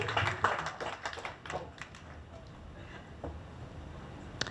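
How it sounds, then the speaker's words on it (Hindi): Audience applause at a certificate presentation after a stage play, a burst of dense clapping in the first two seconds that thins out into scattered claps and room noise. "तो इनके लिए डबल तालियां होनी चाहिए।"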